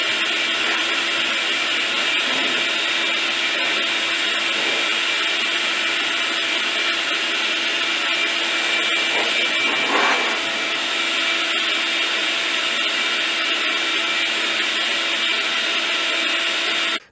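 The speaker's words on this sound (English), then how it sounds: "So I've used this probably more as a blower than I do as a vacuum" A wall-mounted shop vac in a home garage workshop is run as a blower, giving a loud, steady motor roar and rushing air that holds unbroken for about seventeen seconds before cutting off abruptly.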